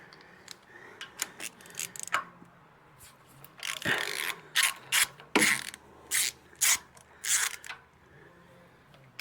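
Socket wrench ratcheting a bolt loose on an old tractor under restoration, a run of sharp metallic clicking bursts in short repeated strokes, close and fairly loud.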